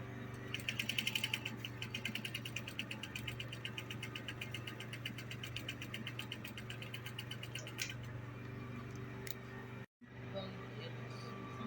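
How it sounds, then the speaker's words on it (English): A sewing machine stitches Rigilene boning, its needle clattering in a fast, close, rapid mechanical rhythm that stops briefly near the end before the motor hum resumes. "And sew this other side."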